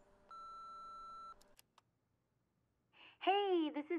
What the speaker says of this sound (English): Let's see what the phone call is.